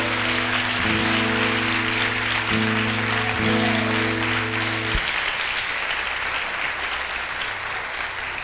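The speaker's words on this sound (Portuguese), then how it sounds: "Vamos aplaudir ao Senhor, aplauda a palavra do Senhor." Church congregation applauding together during a worship service, loud and sustained, with a sustained organ or keyboard chord underneath for the first half before the clapping continues alone.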